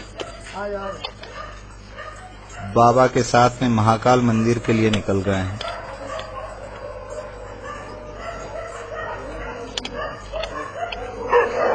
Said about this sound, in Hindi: इनके साथ में शमशान में रहने वाले कुत्ते भी